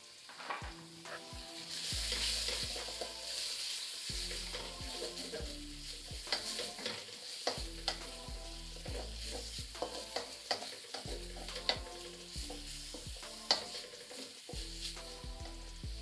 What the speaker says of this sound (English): To this I will add my onions and let them cook a little bit